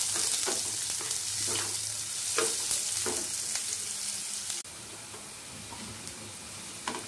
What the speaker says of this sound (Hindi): प्याज को थोड़ा लाइट ब्राउन होने तक हमें इसे पका लेना है